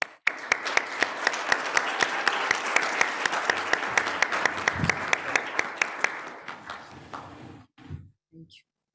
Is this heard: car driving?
no